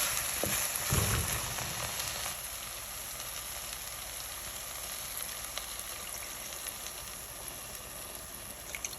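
Ridge gourd curry cooking uncovered in a pan, giving a steady soft bubbling hiss with a brief louder stir near the start.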